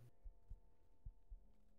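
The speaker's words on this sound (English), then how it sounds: "I can hear my heartbeat." A heartbeat sound effect in a video game thumps faintly in pairs of low beats over a quiet hum, with no talk.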